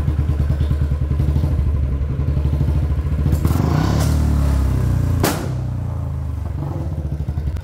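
Royal Enfield Bullet 350 motorcycle firing loud firecracker-like exhaust pops over a steady thumping engine idle, with a sharp burst near the middle and a pronounced crack later on, close and loud.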